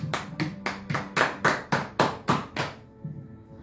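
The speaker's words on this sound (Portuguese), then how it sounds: "Aplauda o Senhor." A church congregation claps in unison during a worship service, about ten sharp, evenly spaced claps that stop abruptly, leaving a quiet room.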